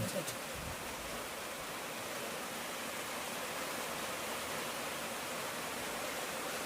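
A steady, even hiss of running water flows continuously at close range, with a brief knock at the start.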